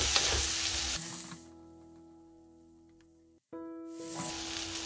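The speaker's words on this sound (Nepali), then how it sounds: "यसरी गोलभेडा पनि एड गरिदिउँ यसलाई एकैछिन फ्राई गर्नु होला" Tomatoes fry in a pan for a sausage pasta, a close, bright sizzle that fades and drops away to near quiet with a faint hum before flaring up loudly again.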